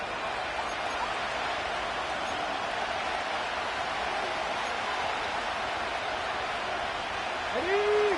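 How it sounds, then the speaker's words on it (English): A broad, steady roar of stadium crowd noise hangs under the action at a football game late in the third quarter, fairly distant and even, with a voice audible over it. "The crowd making their presence felt"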